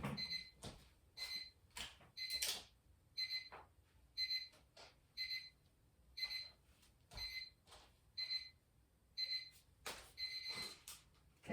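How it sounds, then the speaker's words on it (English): A child's robot alarm clock goes off with regular, evenly spaced electronic beeps, each a short bright pulse repeating about twice a second for over ten seconds, faint and alone in the room. "son's robot alarm"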